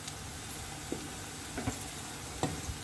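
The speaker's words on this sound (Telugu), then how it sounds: "ఇందులోనే ఉల్లిపాయలు, కరివేపాకు వేసుకొని దోరగా వేయించుకోవాలి" Onions and curry leaves fry in oil in a pan, giving a steady soft sizzle throughout with a few faint stirring clicks, quiet and close, with no one speaking.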